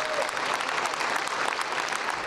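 Loud, dense applause from the crowd at a Central Unified school board meeting, sustained and close, with no break in the clapping.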